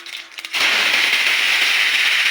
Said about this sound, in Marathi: आता मी जिरेची फोडणी ना देऊन घेते